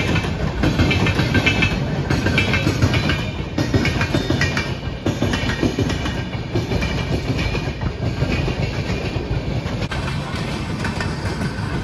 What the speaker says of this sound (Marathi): फायनली आता ट्रेनमध्ये बसलो